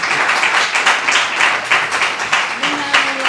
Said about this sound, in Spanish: Podéis aplaudir, gracias.